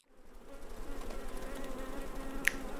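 Insects buzzing in the Metamorphabet alphabet video game, a steady close droning hum that fades in and holds, with one sharp tick near the end.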